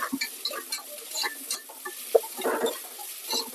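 Crackling sizzle of onions frying in oil, with scattered pops and light stirring scrapes in a pan, steady and close.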